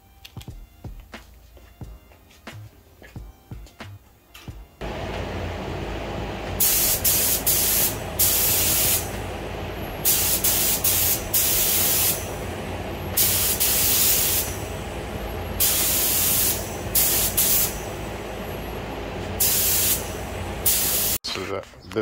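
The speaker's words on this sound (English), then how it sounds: "first coat of 2K high build. Probably gonna do two or three coats." Spray gun laying 2K high build primer onto fabricated metal: loud, close hissing bursts of several seconds each with short gaps, following a stretch of lower background noise, with no talking.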